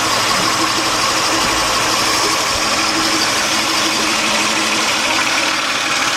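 A 1998 Nissan Maxima 3.0 engine runs steadily at idle, loud and close, with a persistent knocking noise from the engine under a broad, continuous mechanical roar.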